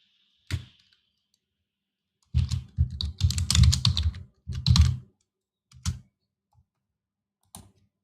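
Sharp, close computer keyboard clicks come in scattered bursts: a single tap, then a rapid flurry of keystrokes, a few more isolated presses, and near-silence between them while drafting in AutoCAD.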